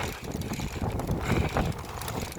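Gusting wind buffets a cyclist riding the cobbled Mons-en-Pévèle sector of Paris-Roubaix, a loud rumbling roar with a rough mechanical rattle beneath it that swells and eases over a couple of seconds.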